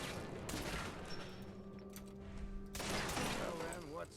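Gunfire erupts in Fallout 4's Far Harbor, with loud bursts of shots cracking amid the game's background sound and a heavier volley near the end.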